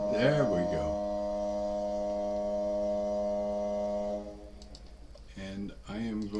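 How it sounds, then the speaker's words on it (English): A long, steady foghorn tone drones for about four seconds, rich in layered harmonics, then cuts off, and voices talk briefly afterward. "Waiting for the foghorn."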